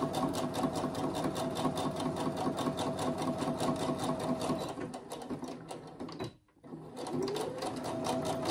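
A sewing machine topstitches a fabric phone pouch with a steady fast rattling hum, then stops briefly before a short restart.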